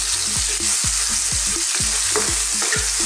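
Pork cubes fry with onion and garlic for Filipino igado, a loud constant sizzle broken by a regular rhythm of spatula scrapes and stirring knocks against the pan, close up, with no talking.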